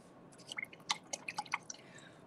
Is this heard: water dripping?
yes